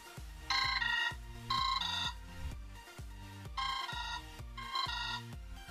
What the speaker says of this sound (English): Let's check the speakers if it's possible. Phone ringtone